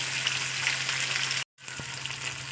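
Hilsa fish head and pieces frying in hot oil give a loud, continuous close sizzle with a low steady hum beneath, cut by a brief silent gap before resuming.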